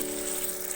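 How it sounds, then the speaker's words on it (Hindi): Onion and garlic frying in hot oil over a medium flame, a dense, steady, close sizzle with no talk. "लहसुन और प्याज को 2 मिनट अच्छी तरह से भूनेंगे"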